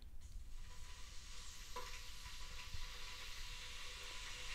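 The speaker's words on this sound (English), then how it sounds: "Now this is a 3 kilowatt kettle" A 3 kilowatt electric kettle heats water with a continuous hiss and bubbling rumble, steady and close throughout.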